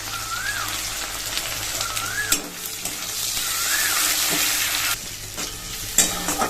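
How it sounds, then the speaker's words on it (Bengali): Onions and tomato fry in a pan with a close, steady sizzle, broken by repeated scraping stir strokes and a few small clanks. "পেঁয়াজটা এখন ভাজা ভাজা হোক একটু টমেটো দিয়ে দিই"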